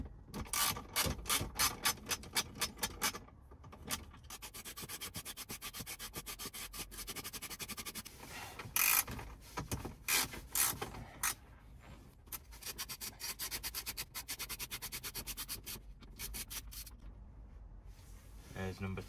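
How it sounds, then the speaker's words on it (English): Two 8mm bolts are worked out from under the glove box of a Rover 25 / MG ZR, producing rapid, rhythmic ratcheting and scraping clicks close up, in repeated bursts with brief pauses. "there's two 8mm bolts underneath here I have to take out"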